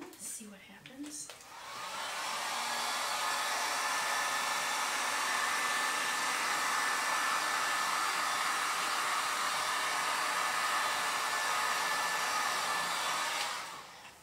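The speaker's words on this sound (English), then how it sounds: "let me get my heat gun out again, see what happens" Heat gun blowing over an acrylic pour painting, a loud steady whooshing fan roar that starts after a brief pause, holds evenly for about twelve seconds, then cuts off.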